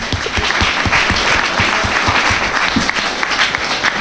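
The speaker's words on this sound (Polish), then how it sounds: "Duże brawa dla niego." Loud, dense applause from a conference audience on European pension systems, a sustained even roar of clapping hands close and continuous for several seconds.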